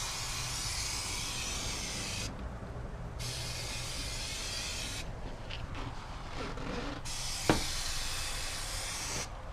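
3M High Strength 90 contact adhesive hisses from an aerosol can onto a van wall in several long bursts separated by short pauses, close and steady, with one sharp click near the end.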